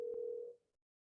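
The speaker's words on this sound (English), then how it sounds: "You froze up for a second, Lenny, so I tried to call you." A single steady telephone calling tone, a clean electronic beep that holds for about half a second and then fades out, alone with no talk.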